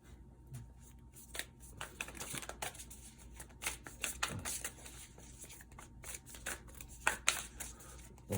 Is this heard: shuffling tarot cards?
yes